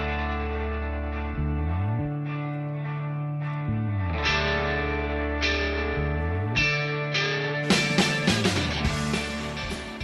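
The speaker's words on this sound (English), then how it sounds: "Please play the music." Intro music for a Dallas Cowboys sports podcast: a steady instrumental piece with sustained stepping bass notes and layered tones, growing busier and more percussive toward the end, played loud and alone without talk.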